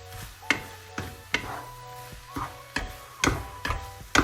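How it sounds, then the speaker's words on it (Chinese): Noodles are stir-fried with a big spoonful of Lao Gan Ma chili sauce, the spatula knocking against the pan in sharp, fairly regular strikes about every half second over a low steady hum. "最后再来上1大勺老干妈辣椒酱，然后不断的翻炒。"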